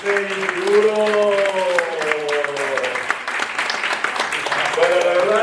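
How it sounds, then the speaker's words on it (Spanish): Audience at a Lima conference applauds a speaker, steady dense clapping throughout with a few voices calling out over it. "Un aplauso para Duro."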